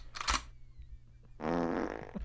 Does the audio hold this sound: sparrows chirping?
no